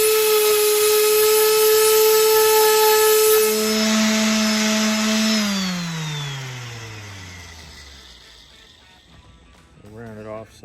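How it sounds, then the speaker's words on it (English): A power sander working on a wooden sign whines with a steady, high motor tone. It then winds down in falling pitch and fades toward quiet, and a voice comes in briefly at the end. "But I'm gonna sand that."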